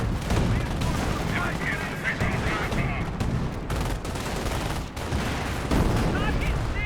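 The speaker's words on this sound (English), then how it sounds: "And do have a nice little incendiary mortar there on the AT gun as well" Gunfire and incendiary mortar fire from a Company of Heroes 1 battle, a dense, continuous wash of rattling shots and booms with no break in the din.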